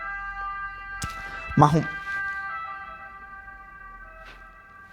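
An ambulance siren passes along a street in Italy, a steady wailing tone sitting under close conversational speech from someone talking in Spanish.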